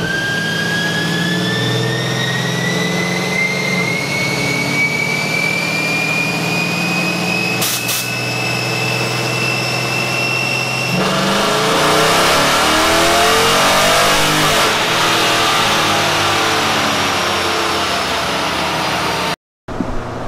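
A Mopar Dodge Challenger engine on a dyno pull with a 75-shot of nitrous revs hard and climbs steadily in pitch, loud and continuous for about twenty seconds before cutting off abruptly.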